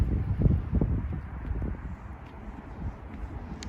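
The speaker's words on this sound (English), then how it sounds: "It's a little windy, so hopefully the little fur cover I made does the trick and it's not too noisy." Wind buffets a furred microphone cover outdoors on Portage Avenue, looking toward Wolseley, on a breezy spring Sunday, producing loud low rumbling gusts that swell early and then ease to a steadier, softer roar.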